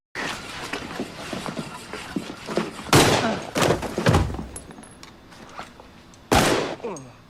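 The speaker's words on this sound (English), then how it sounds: "We heard the gunshots." Several sharp, booming gunshots crack out at irregular intervals amid a busy, noisy scene, with the last loud report near the end.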